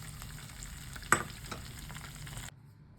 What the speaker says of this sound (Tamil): நம்ம முந்திரியும் திராட்சையும் நெய்யில் வறுத்து போட்டுடலாம்.